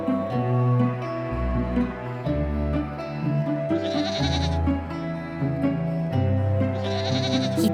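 Goats in a fairy tale story bleat repeatedly, wavering cries layered with musical tones, loud and close with no talk.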